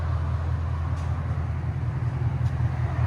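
2024 Ford Mustang GT 5.0L V8 with Valvetronic Designs mufflers, X-pipe and valves open, idling with a steady, deep, rumbling exhaust burble at moderate volume, no voices.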